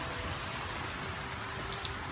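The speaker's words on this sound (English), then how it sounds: "it's bucketing with rain" Heavy summer rain pours down steadily in Perth, Western Australia, a dense, even hiss with no voices over it.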